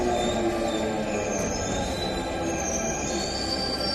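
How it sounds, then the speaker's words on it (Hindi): India's first driverless metro train running in Delhi, heard as a steady, close rumble of wheels on rail with thin high squealing tones riding over it throughout, and no voices. "ये है देश की पहली ड्राइवरलेस मेट्रो ट्रेन।"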